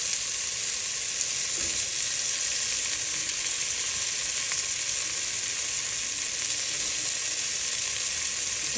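Green pepper sizzles in a pot of onions and garlic cooked almost to blackening, a steady close hiss and crackle of frying that carries on alone without a pause.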